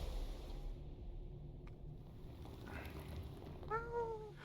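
A cat gives a faint, brief meow near the end of a quiet indoor stretch, with low background hum and no talking.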